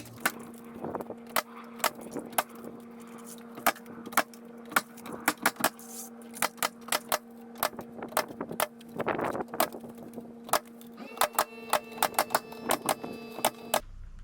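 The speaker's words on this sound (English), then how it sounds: "I'm using nails, and this is a 15-degree nailer" A 15-degree nail gun fastens James Hardie fiber cement siding in a courtyard, firing many sharp, snappy shots in quick irregular succession over a steady low hum.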